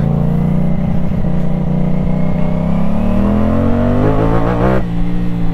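A CFMoto 450SR sport motorcycle engine idles roughly, then climbs in pitch as it revs and accelerates, loud and close, before easing back.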